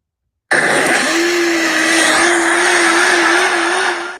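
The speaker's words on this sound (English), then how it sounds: "The blender begins again." A blender motor starts abruptly and runs loud and steady with a constant whirring whine for several seconds before cutting off.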